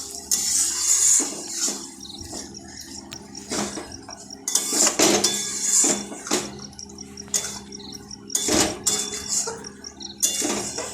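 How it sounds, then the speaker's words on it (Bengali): Metal utensil scraping and clinking against a pan while stirring a sweetened dish cooked until the oil separates, with irregular bursts of scraping and knocks at close range and no talking. "এটাকে ভালো করে একটু নাড়াচাড়া করে নেবো যতক্ষণ না তেল ছেড়েছে"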